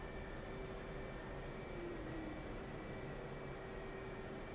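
Steady distant aircraft engine drone from a jet taxiing far off on a carrier deck in a flight sim game, a constant low rumble with a faint whining tone, no talking.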